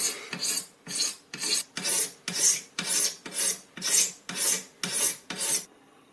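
A blade scrapes varnish off a carbon fishing rod in about eleven steady, rhythmic rasping strokes, each a loud, close, gritty scrape with short pauses between.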